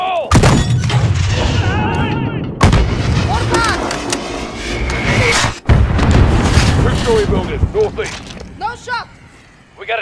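A grenade blast in a Call of Duty Modern Warfare combat scene, a sharp loud boom followed by further heavy explosive thuds and crackling debris, with voices shouting over the chaos.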